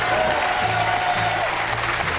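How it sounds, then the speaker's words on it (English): A quiz show studio audience gives a steady round of applause and cheers for a contestant. The clapping is continuous and fills the room. "Cheer for Heather, please"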